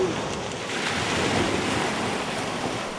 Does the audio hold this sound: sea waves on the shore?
yes